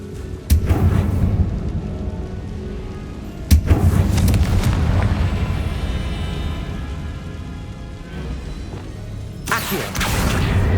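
A Confringo explosive spell in Hogwarts Legacy, heavy booming blasts with sharp onsets and rumbling decay, several impacts spaced across a noisy game scene.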